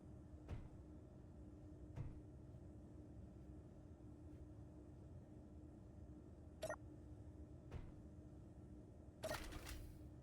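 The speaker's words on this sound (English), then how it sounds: "close the door. Boom." A door closes in the space game Space Engineers during a Mars survival session, heard as a few brief clunks and a sharp hiss-like burst near the end over a steady low mechanical hum.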